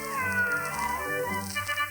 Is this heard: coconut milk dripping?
no